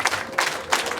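Wedding guests applaud, a brief burst of crowd clapping with rhythmic swells, moderately loud and close.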